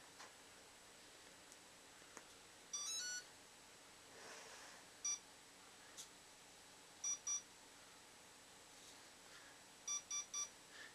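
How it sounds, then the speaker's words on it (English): An RC helicopter's electronic speed controller beeps as it is plugged in and the throttle stick is lowered: one longer tone, then short sharp beeps in pairs and a final quick triple, all close and clear over a quiet room. "It beeped once, and then it beeped two more times. I lowered the throttle stick, and it beeped a couple more times."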